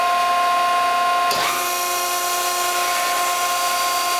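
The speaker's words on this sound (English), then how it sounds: "press is closing in fast speed" An industrial press closes at fast speed: a steady mechanical hum with tonal whine, then a sudden loud hiss and rush of machinery as the stroke begins, continuing as broadband noise close by.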